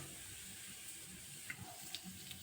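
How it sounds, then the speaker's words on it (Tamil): Mustard seeds and cumin sizzling in hot oil for a Karaikudi-style spicy chutney, a faint steady hiss with a few small pops and crackles toward the end. "எண்ணெய் காய்ச்ச உடனே கொஞ்சமாக கடுகு சேர்த்துக்கலாம் அப்புறம் கொஞ்சமாக சீரகம் சேர்த்துக்கலாம்"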